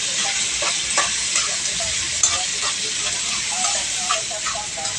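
Previously boiled mung beans are stirred in a hot pan, with a loud, constant sizzle and hiss broken by scraping stirs, close up.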